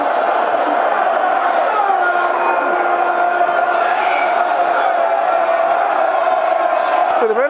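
A football crowd at Millwall's Den roars for a goal, a loud, sustained wall of cheering and shouting that carries through the whole stretch without a break.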